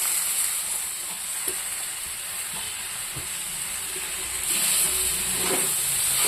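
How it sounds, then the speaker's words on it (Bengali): Dry fish chutney ingredients frying in a pan with brinjal, onion, garlic and chilli, a steady close hissing sizzle with light stirring clinks, swelling louder near the end. "এটাকে আমি একটু সময় ভাজবো।"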